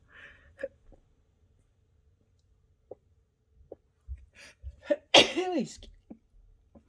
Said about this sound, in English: And I think I'm going to sneeze.